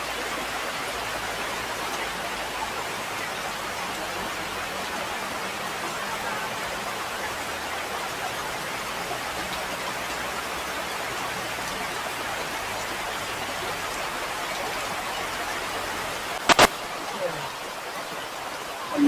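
Rain mixed with wind hits a motorcycle during a ride from Manila to Real, Quezon. A steady, dense hiss fills the whole stretch, with a brief knock near the end.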